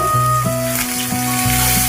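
Chopped tomato, green chilies, bay leaves, salt and potato fry in a pan, a close steady sizzle with a stepped tonal hum running over it.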